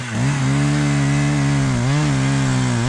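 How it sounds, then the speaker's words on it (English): Chainsaw cutting down a dead white pine tree, its engine droning loud and steady at close range with a brief dip and rise in pitch partway through, no voices. "Got a big pine tree here, white pine that's died on me, and Benjamin gonna cut it down"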